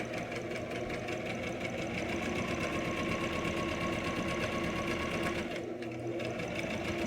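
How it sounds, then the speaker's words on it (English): A sewing machine runs steadily for about seven seconds, stitching a straight line with a dense, even mechanical whir, close and loud, with a brief dip near the end as it slows for reverse stitches. "What you usually do when you're sewing and you start is to go back a few stitches"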